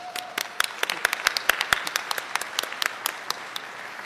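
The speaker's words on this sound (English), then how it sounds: "so come on, clap" Scattered applause from a conference audience at a web security talk, many quick uneven claps close together, moderately loud and steady throughout.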